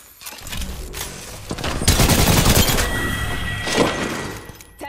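Shooter video game firefight: bursts of automatic gunfire and scattered single shots crackle close and loud, with a glassy shattering crash and dull thuds mixed into the chaotic exchange.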